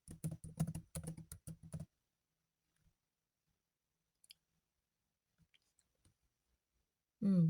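Quick bursts of computer keyboard typing, about a dozen sharp clicks in a fast run, then near silence with a few isolated key taps, including shift and enter presses, before a voice starts talking.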